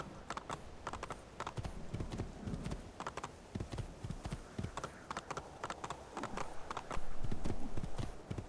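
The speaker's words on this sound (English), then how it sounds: "Awkward horse riding." Rhythmic clip-clop of horse hooves at a trot in Assassin's Creed II, close and steady, with a louder burst near the end.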